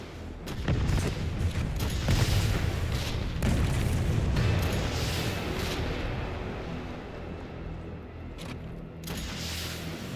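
Heavy rocket launcher explosions and booming blasts from Resident Evil 3 Remake, loud and continuous with dense rumbling impacts through most of the stretch, easing slightly toward the end.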